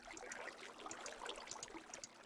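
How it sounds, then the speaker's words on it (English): Gentle water trickling from a small waterfall in Minecraft, a soft continuous splashy patter with scattered bright droplet ticks, steady and moderately quiet throughout with no talking. "waterfalls, little waterfalls here"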